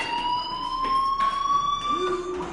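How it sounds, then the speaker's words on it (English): A fire alarm rings steadily in the Life is Strange video game, a high continuous electronic tone that drones on through the whole stretch with slight pulsing, loud and close, with faint background noise beneath. "Hey, do you hear that fire alarm?"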